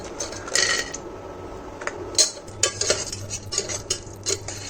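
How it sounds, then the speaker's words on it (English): Raisins and cashew nuts are fried dry in a pan, a metal spoon scraping and clinking against it in quick irregular strokes over a faint low hiss. "Now fry these all dry fruits, raisin and cashew nut."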